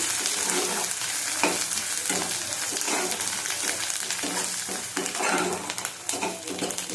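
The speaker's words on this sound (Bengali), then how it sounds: "ভালো করে মশলাটা ভেজে নেব।" Spice paste with chilli frying in a pan for a fish, potato and pointed gourd curry, a steady dense sizzle with repeated scraping stirs throughout, no talking.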